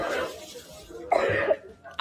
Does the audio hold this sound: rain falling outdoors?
no